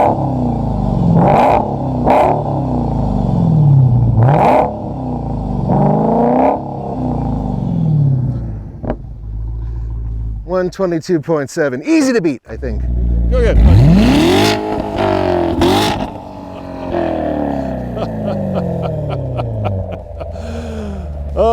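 A 2017 Chevy Corvette Grand Sport or Dodge Challenger Hellcat engine revs hard and loud up close, with repeated sharp throttle blips and roaring bursts between idling rumble, and people talking over it.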